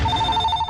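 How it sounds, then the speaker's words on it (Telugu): A telephone rings with a steady electronic tone, close and clear, filling a brief moment in an indoor comedy scene with no talk over it. "అయ్యో, ఫోన్ మోగేసింది"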